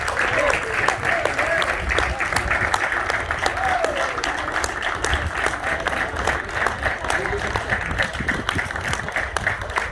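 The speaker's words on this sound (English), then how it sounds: "Give them a round of applause, please." Steady round of applause at a youth football academy graduation day, dense continuous clapping from an audience with a talking voice over it throughout.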